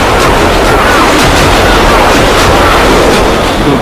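A loud, sustained explosive roar of booming blasts and rumbling fills the whole stretch without pause, dense and close, with no clear speech over it.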